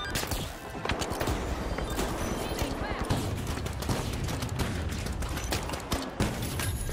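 Automated turret firing in The Finals, a dense run of rapid gunfire bursts stacked with explosions and other combat noise, loud and close for the whole stretch, with a player talking over parts of it.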